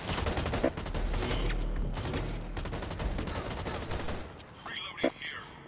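Rapid bursts of automatic gunfire from the shooter Blacklight Retribution crackle almost continuously, with a few sharper individual shots standing out, as players talk over the firing.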